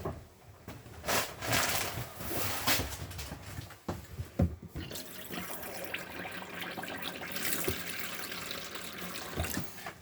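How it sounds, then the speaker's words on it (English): Water runs from the taps of a 2020 Bailey Phoenix 644 caravan, a steady hissing gush with sputters and bursts as trapped air clears, heard close with no speech. "you'll need to run the water through the taps to release all the air"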